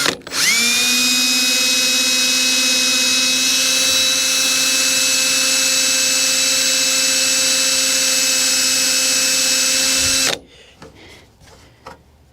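A power drill bores a hole for a Redline/Tuning Quicklift Plus hood strut on a 1979-98 Ford Mustang. It whines loudly and steadily for about ten seconds, then stops, and faint handling noises follow.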